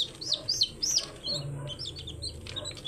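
Newly hatched chicks peep in high, rising chirps from a hatch where weak and dying chicks lie, one stuck to the tray by its body; several close, bright peeps come in quick bursts over a low background rumble.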